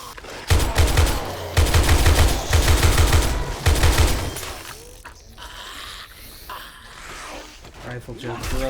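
Rapid bursts of rifle gunfire in the video game Afterlife rattle close and loud for about four seconds, then give way to quieter scuffling game sounds.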